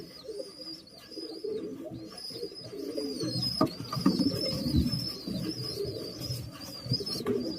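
Pigeons in a Bengali pigeon keeper's loft coo in low, repeated throaty phrases, with some chirps and faint background twittering throughout, close and moderately loud.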